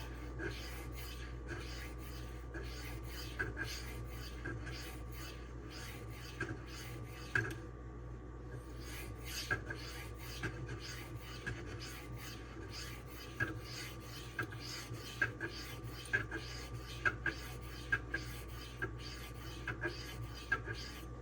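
A Cold Steel Swift knife blade drawn repeatedly across DMD diamond sharpening stones, producing rhythmic rasping strokes in a steady back-and-forth pattern, close and fairly quiet, with a brief pause partway through.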